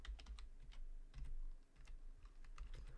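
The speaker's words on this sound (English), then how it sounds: "Press on the enter key." Quick, quiet taps on a computer keyboard in a Linux terminal, irregular clusters of keystrokes with a short pause midway, close and alone.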